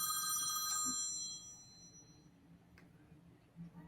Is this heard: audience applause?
no